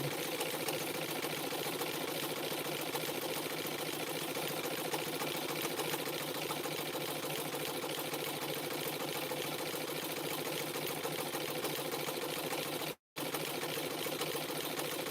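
A sewing machine stitches rope into tea cups with a steady, continuous mechanical whir that runs without a break until one brief stop near the end, then resumes.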